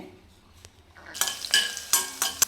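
Onion, green chilli and ground spice paste frying in oil for a Karnataka sprouted chickpea and greens saaru, with a faint start, then louder bursts of sizzling and a spoon stirring and scraping the pan, close and without talk.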